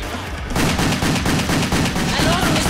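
Pistol shots ring out in the video game WET, a rapid series of loud, close cracks fired in a steady rhythm of about one every quarter second, beginning after a brief quieter moment.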